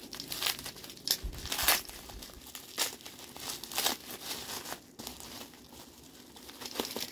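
Bubble wrap packaging around NBA trading cards crinkles and crackles in close, irregular handling bursts, with the rustling continuing throughout and no talking.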